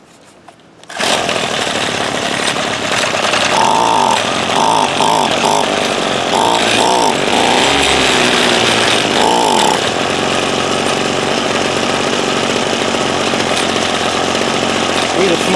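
A Ryobi SS30 two-stroke string trimmer, bought cheap secondhand, starts and runs loud and close with a raspy buzz, its revs surging and dipping unevenly after carburetor high and low screw adjustments, then settling into a steady idle.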